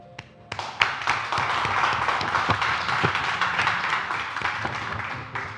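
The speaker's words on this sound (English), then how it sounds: "please give a round of applause to Anshal" Studio audience clapping for a guest arriving on a talk show, a sustained round of applause with a few sharp individual claps rising at the start, steady and moderately loud for several seconds.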